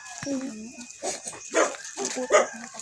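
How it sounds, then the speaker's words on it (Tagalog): A dog gives a few short barks and whimpering yips, close by, with a person's voice mixed in. "May aso pa dyan, oo."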